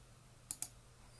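Two quick, faint mouse clicks in close succession, very near and crisp, with a quiet room behind them.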